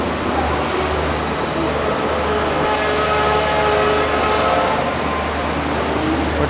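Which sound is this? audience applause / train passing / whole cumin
train passing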